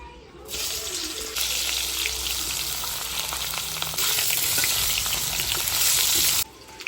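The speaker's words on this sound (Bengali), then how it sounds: "কাঁচকলাটা ভেজে নেব" Green banana (plantain) pieces fry in oil in a kadai (wok) for a Bengali shukto, giving a steady, close, loud sizzle that crackles throughout and swells a little louder near the end before cutting off.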